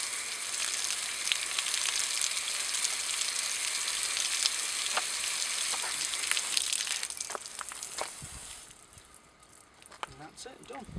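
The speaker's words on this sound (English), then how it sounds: "So I'm just using a hose pipe on a nice low pressure." Hose pipe at low pressure rinsing a bicycle chain and sprockets, a steady hissing spray with patter that thins and drops off near the end.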